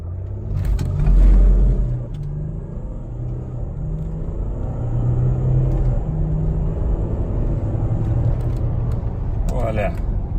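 A tuned Mercedes GLE350 Bluetec diesel SUV accelerates from a standstill toward 100 km/h, its engine rumbling loudly and steadily from inside the cabin, with a heavier surge near the start, and a voice is briefly heard over it.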